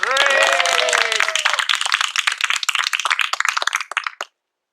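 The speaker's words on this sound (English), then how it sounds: "Let's give another warm round of applause for Katie Pomeroy." An audience applauds a poetry reader at a reading event; scattered clapping starts under a voice that fades out early, then individual claps thin out and stop abruptly near the end.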